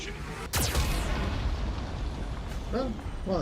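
A Geth cannon firing in the video game Mass Effect 2, a sudden heavy blast followed by a rumbling explosive roar that fades slowly, with game voices and effects faintly over it.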